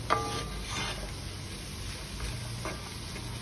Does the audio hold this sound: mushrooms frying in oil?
yes